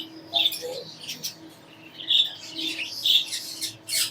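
Yellow ring-necked parakeets, a breeder pair, give a series of sharp chirps and squawks at close range, irregular bursts spaced over a few seconds against a quiet background.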